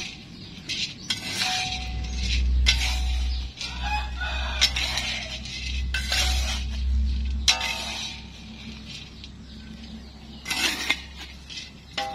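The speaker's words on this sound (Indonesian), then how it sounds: "Maaf ya teman-teman karena ada suara ayam, maklum karena kita di kampung," Roosters crow repeatedly in bursts while hens cluck nearby in a village, with a steady low rumble underneath throughout.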